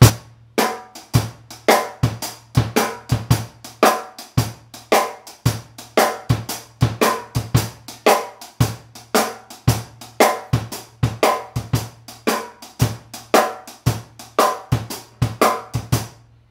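Drum kit playing a shuffle rhythm with no ghost notes: steady swung kick and snare hits with a low sustained hum underneath, close and loud, no talk, repeating evenly throughout.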